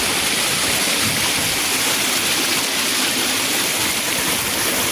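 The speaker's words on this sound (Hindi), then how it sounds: "पानी का शोर" A stream in Azad Kashmir rushes loudly and steadily, a broad, unbroken hiss of water close by with no pauses or voices over it.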